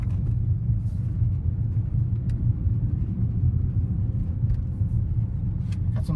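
A 2008 Vauxhall Zafira Elite 1.8 drives along a country road, giving a steady, loud low rumble of engine and road noise with a few faint bumps and knocks.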